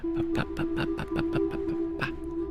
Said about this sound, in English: That is the sound of me head patting you.